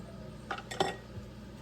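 A lid set onto a glass jar of homemade blueberry jam, giving a few faint, quick clinks and taps in a quiet kitchen.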